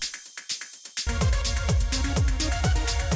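A small percussion sample from a techno track plays alone in quick, light ticking hits, then a thick pounding kick and layered groove join, the percussion pattern ticking on in the background.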